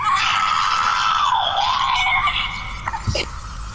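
A voice imitating the scream of a poor elf's soul as it flows from its mouth, a sustained wavering wail that dips and rises, loud and close, ending with a brief crack.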